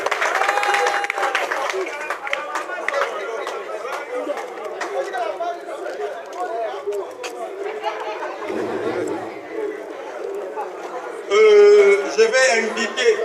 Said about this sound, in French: Applaudissons encore pour eux.